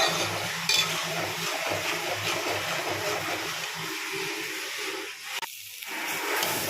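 Spices with salt and turmeric being stir-fried in a pan, giving a steady close frying hiss with light stirring scrapes and occasional utensil clinks; near the end there is a brief drop and a short burst of noise.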